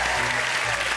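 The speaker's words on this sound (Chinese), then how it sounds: "为你们的毅力，我们鼓掌。" A television studio audience gives a short burst of dense, even clapping after two older men finish a push-up contest, loud and close throughout the brief moment.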